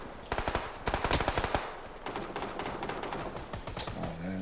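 Rapid bursts of automatic gunfire in the battle royale game PUBG, with fast cracking rounds in quick strings and a few scattered single shots afterward, fairly close.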